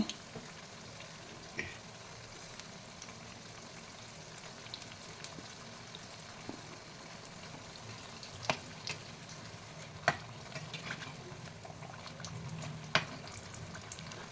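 Chilli bajji, battered green chillies, frying in hot oil in a pan, a steady soft sizzle with occasional sharp pops and crackles, close and fairly quiet with no talking.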